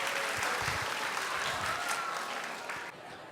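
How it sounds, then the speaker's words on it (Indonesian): A stand-up comedy show audience claps in a distant, fairly faint, continuous burst that fades slightly at the end. "Tepuk tangan untuk kalian semua yang ada di sini."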